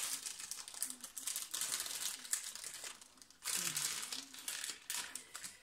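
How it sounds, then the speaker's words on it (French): A plastic packet of buttons is torn open and handled at close range, giving bursts of crinkling and crumpling with a few sharp tearing rustles. "Je vais vous ouvrir un paquet."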